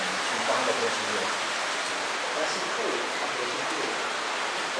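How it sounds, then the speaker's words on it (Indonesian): A fast-flowing river stream rushes steadily in a broad, constant wash of water noise throughout, with faint voices murmuring at the start. "Dan ini aliran sungai ini kenceng juga loh ini."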